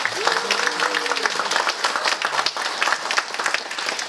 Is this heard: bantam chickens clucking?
no